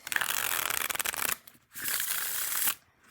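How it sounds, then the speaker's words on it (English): A tarot card deck is shuffled close up in quick riffling bursts, a dense crisp flutter of cards, pausing briefly before a second shuffle. "Don't you love a deck that shuffles?"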